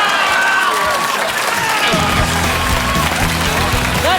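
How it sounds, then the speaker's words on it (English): A studio audience at a television comedy panel show breaks into loud applause and cheering, a dense sustained roar of clapping with music starting beneath it partway through. "Give them a big round of applause"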